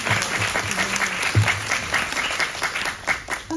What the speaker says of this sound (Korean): 이번에 임수정님께 큰 박수 부탁드립니다.